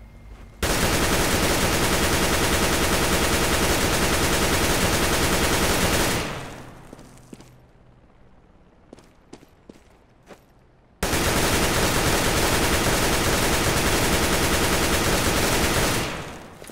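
Long, dense volleys of rapid gunshots fired through a wall in CS:GO on the de_dust2 map, each burst loud and continuous for several seconds, separated by a quieter gap with a few isolated sharp cracks.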